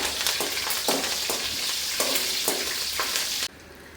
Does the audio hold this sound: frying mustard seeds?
yes